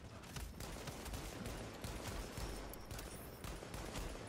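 Bursts of rifle fire in The Division on Xbox One S, set in downtown New York, with a run of sharp, close shots spread through a busy stretch of steady combat noise.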